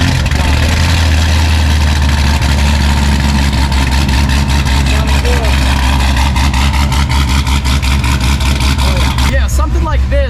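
A 1,000-horsepower Ford GT500 remote-started, settling into a loud, deep, rumbling idle with a steady throb, close by, with a brief change in tone near the end.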